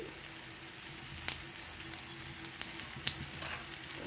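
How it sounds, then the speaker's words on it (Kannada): A kohlrabi cutlet sizzles softly in oil on a tawa, a steady faint crackling hiss broken by a few sharper pops. "ಈ ರೀತಿ ತವದ ಮೇಲೆ ಹಾಕಿ ಮೇಲೆ ಸ್ವಲ್ಪ ಎಣ್ಣೆಯನ್ನು ಹಾಕಿ"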